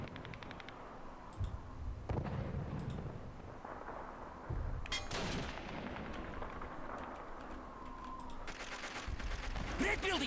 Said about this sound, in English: He's dead. Good shot, comrade.